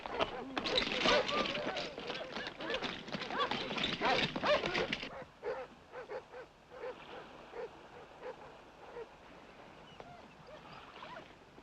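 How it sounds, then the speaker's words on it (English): Several dogs barking excitedly in an outdoor search scene, dense and loud for the first few seconds, then fading to scattered yips and barks further off. "The other dogs are barking down there, so it must be the third man."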